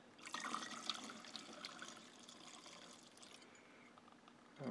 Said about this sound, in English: Let's get some gas and put it in there.